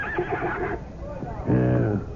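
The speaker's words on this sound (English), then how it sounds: "Go find me another horse, Philonicus." A horse whinnies in a radio drama about Alexander the Great and Bucephalus, a loud rising neigh near the end after a man's speech.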